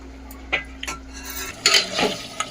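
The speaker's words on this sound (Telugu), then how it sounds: "మూత అయితే పెట్టుకుందాం" A metal lid clanks onto a cooking pot of chicken curry in a home kitchen, a few sharp clinks and scrapes of cookware, close and moderately loud with no talking.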